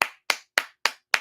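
Five sharp, evenly spaced hand claps, close and loud, each a crisp slap with a fast decay and silence between, heard at a live drill-music show.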